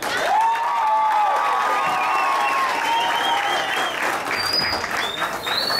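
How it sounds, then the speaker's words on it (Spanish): A large crowd at a festive show in Cali bursts into sustained applause mixed with cheering and shouts, loud and dense throughout, with a few whistles near the end. "Recibamos un aplauso muy"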